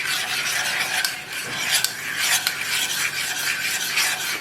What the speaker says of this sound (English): Just keep stirring everything until all this is well incorporated